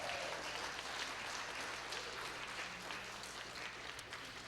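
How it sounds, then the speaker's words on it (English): Audience applause at a storytelling event, steady continuous clapping from a crowd, fairly distant and evenly sustained throughout with a faint low hum beneath. "One more round of applause for Barbara Carroll."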